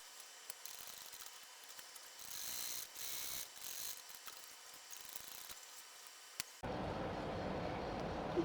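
Sewing machine stitching a seam on a fabric flap bag, a faint steady mechanical whir with small ticks, growing louder and denser near the end.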